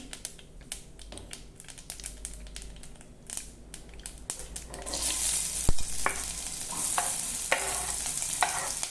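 Crackling sizzle of a tempering of green chillies, curry leaves and coriander leaves frying in hot oil, with a spoon scraping and stirring the pan; the frying grows louder and busier partway through.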